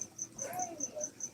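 A male cricket chirps from the corner of a room, a faint, steady high-pitched trill repeating in an even rhythm of short pulses, with no talking over it.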